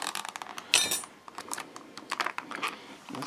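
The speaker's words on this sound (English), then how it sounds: "So I'm just going to give a little snip with the scissors." Scissors snip through plastic toy figure packaging at close range, a few sharp crisp cuts mixed with light rustling and clicking of the plastic against the blades.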